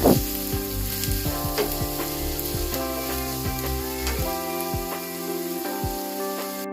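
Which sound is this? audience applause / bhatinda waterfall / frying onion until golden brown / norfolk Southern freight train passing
frying onion until golden brown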